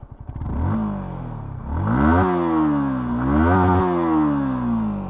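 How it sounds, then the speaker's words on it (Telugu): A Yamaha MT 15 V2 motorcycle revs its exhaust up close in several rising throttle blips, with the engine note climbing, dropping and climbing again over steady idle rumble. "ఎగ్జాస్ట్ సౌండ్ వినండి."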